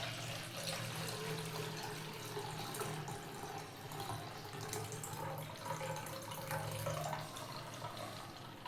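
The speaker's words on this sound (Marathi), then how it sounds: "पूर्णपणे पाणी नितळून काढायचे आहे त्याच्यातले." Water is drained off soaked rice batter for traditional village-style rice sandge, a steady, continuous splashing pour like a running tap that stays at an even level throughout.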